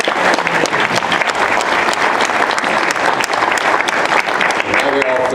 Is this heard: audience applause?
yes